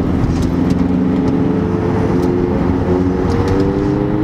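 Several road cars accelerate together after being overtaken, a steady loud engine drone with rising revs close by, no talking over it.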